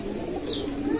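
A pigeon coos close by in a single low, throaty burble lasting about a second, with a faint chirp from another bird partway through.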